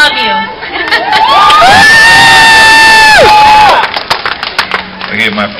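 A crowd at a singing competition cheers and screams loudly in a sustained roar, with a sung note held over it before the noise breaks into scattered shouts and clapping.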